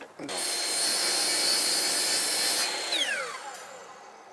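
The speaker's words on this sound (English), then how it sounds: "I have a chop saw set up, and we would cut the spindle, both sides." A chop saw slices through a wooden spindle in one loud, steady cut lasting a few seconds, its whine dropping as the blade spins down afterward.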